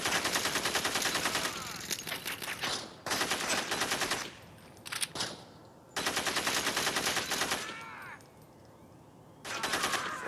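Rapid automatic gunfire in the video game Gangstar 4 comes in several long bursts separated by short lulls, with scattered single shots between, sharp and loud.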